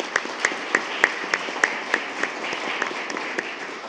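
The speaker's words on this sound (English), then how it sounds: "Please give them a round of applause" A modest round of applause at a school board meeting, a small group clapping with several distinct, evenly spaced loud claps standing out over softer ones.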